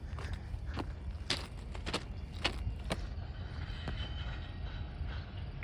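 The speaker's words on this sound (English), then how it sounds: "Can you hear him going over the railroad diamonds?" A train rolls across railroad diamonds at a road crossing, its wheels striking the crossing joints in a run of sharp, irregular clacks over a steady low rumble, heard from a short distance away.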